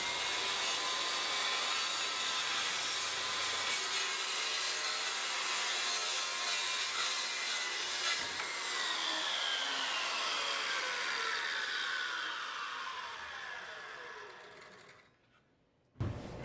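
A saw mounted in a Smart Saw base cuts through wood with a continuous, close rasping whine that gradually fades and slows toward the end, then stops, followed by a short knock.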